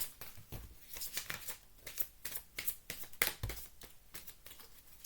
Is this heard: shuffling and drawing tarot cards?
yes